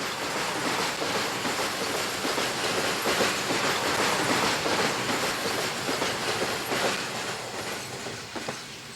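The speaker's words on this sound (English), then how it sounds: "Post-war 240 here on a long, heavy freight consisting entirely of short wheelbase four-wheel wagons" A post-war RENFE 240 steam locomotive hauls a long, heavy freight of short wheelbase four-wheel wooden wagons, a steady loud rumble of rolling stock with wheel clatter filling the whole stretch.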